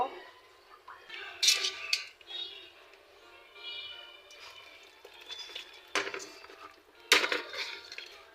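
Cooking utensils being washed in a home kitchen, with intermittent clinks and clatters of metal and dishes, running water and scraping close by, and several sharp knocks, while someone talks at times.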